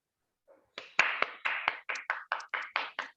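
A meeting audience welcoming Rohit sir with hand claps: a short burst of about a dozen sharp, evenly spaced claps, close and clear, with no talk over them.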